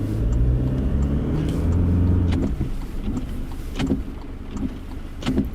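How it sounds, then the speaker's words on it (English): Car windscreen wipers sweep rapidly in heavy rain, heard close to the glass as rhythmic swishes and thumps over a low engine and road rumble, with no talk. "You can hear the wipers working overtime because of the proximity of the microphone to the windscreen"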